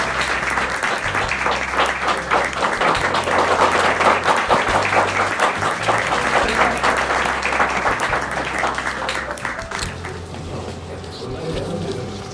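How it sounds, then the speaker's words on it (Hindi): Audience applause at a store inauguration event, sustained dense clapping from a crowd that stays loud for the whole stretch and eases slightly toward the end. "जरा तालियों की गूंज हो जाए, गड़गड़ाहट हो जाए हम सबके लिए."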